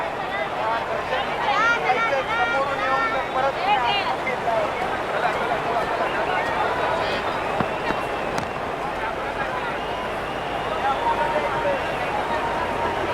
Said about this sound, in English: all these spectators here today are completely enthralled and energised, judging by that noise anyway